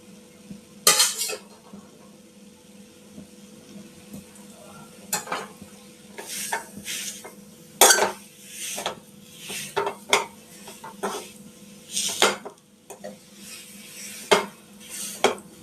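Spoon stirring a dates-seed laddu mixture with ghee in a pan: repeated scraping strokes and clinks of metal on the pan in irregular bursts, with a faint sizzle underneath, close and moderately loud.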